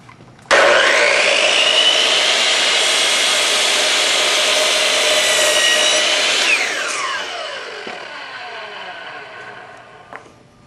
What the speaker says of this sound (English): use the saw and the laser to line up to your mark, make the cut